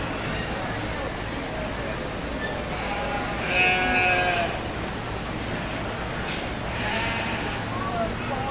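Yearling ewes bleat at a 4-H/FFA sheep breeding show, several drawn-out wavering calls standing out over the steady arena hubbub of crowd chatter.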